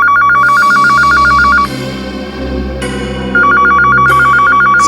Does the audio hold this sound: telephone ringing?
yes